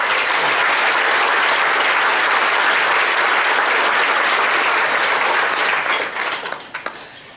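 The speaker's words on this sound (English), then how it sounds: "Big round of applause." An audience applauds at the Kern County State of the County event, a loud, sustained wash of clapping from a large crowd that continues for several seconds, then thins out and fades near the end.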